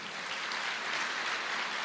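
Church congregation applauding during a sermon, a brief, even wash of many hands clapping at moderate distance, with no voices over it.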